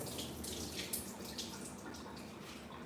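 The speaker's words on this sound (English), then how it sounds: "Let me drain the shrimp off of, get this water out of here." Water from cooked shrimp pours and drips steadily into a sink, a continuous close splashing trickle with no talk.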